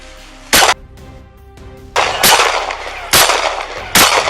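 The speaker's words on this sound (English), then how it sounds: "Shots fired." Four sharp gunshots ring out during a police confrontation, loud and close, spaced irregularly over a few seconds with a steady background hum between blasts.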